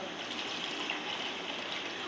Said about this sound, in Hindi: अब इसमें मैं पानी डाल दूँगी चनों वाला